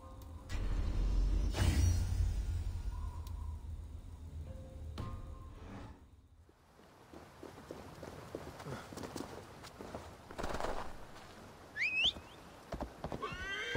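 Horse sounds in Assassin's Creed Valhalla, with a loud burst of hooves and whinnying near the start, then quieter clip-clop and game ambience over the rest, no talk.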